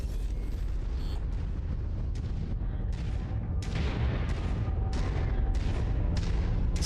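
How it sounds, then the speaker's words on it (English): Ammunition cooks off in a Mechwarrior 5 Mercenaries mech battle as a chain of sharp booming blasts, about eight of them spaced irregularly, each ringing out with a decaying tail over a rumbling background. "Ammo erupts."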